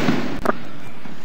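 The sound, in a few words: gunshot booming nearby in a housing project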